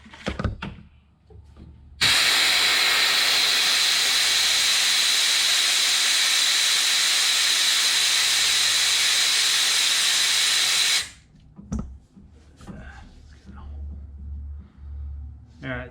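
A vacuum coolant filler pulls the air out of the cooling system of a 2016 Ram 3500 dually truck, producing a loud, steady hiss of rushing air for about nine seconds, with someone talking before and after it.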